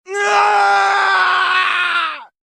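One long, loud, high-pitched scream rings out, holding steady for about two seconds before cutting off abruptly.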